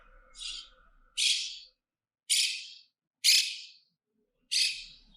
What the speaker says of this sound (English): So this is monk parakeet.